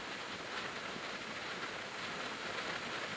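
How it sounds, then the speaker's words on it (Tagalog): Heavy, unbroken rain pours down in a steady, dense hiss that holds constant throughout, with no pauses or voices, during a strong rain and wind storm. "Napakalakas po yung ulan, dire-diretso."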